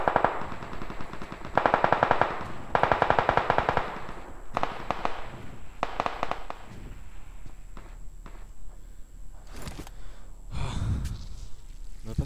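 Automatic gunfire in PUBG, with dense rapid bursts of shots followed by scattered single shots and a few louder blasts, heard up close with no talk.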